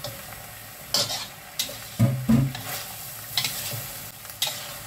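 Chilies dropped into a hot frying pan while cooking beef semur, sizzling and frying under several clinks and stirring scrapes of a utensil against the pan, close and fairly quiet.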